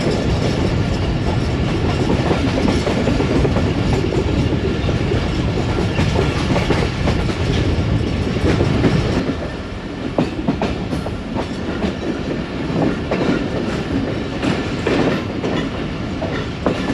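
Rehman Baba Express passenger train rolling along the rails near Mankiala railway station, a steady rumble with rhythmic clickety-clack of the wheels heard from inside the carriage throughout.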